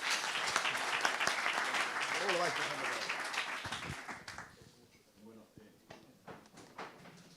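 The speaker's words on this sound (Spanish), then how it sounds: "le damos un aplauso a todos ellos" An audience applauds a panel at a technical conference debate in Bilbao, loud clapping that fades after about four seconds into scattered claps, knocks and thumps as people settle; a voice speaks briefly near the end.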